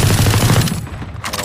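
Rapid automatic gunfire shot through a wall in a video game, loud and close, a dense burst of shots that eases off midway, then a few more rounds.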